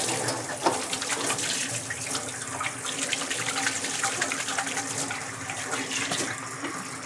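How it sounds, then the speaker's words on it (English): Running tap water pours continuously over hands being rinsed at a sink in a college cooking masterclass kitchen, a steady close splashing gush with no voices. "I'm just going to rinse my hands."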